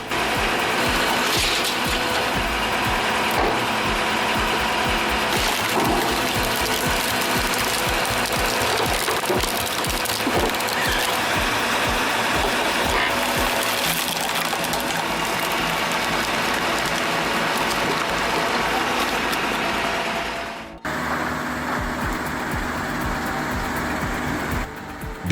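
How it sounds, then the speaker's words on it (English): An Easton 60C firewood processor handles and cuts logs with a loud, continuous mechanical clatter and whir that briefly drops out near the end and then resumes. "the Easton-made 60C firewood processor showcased impressive log handling capabilities"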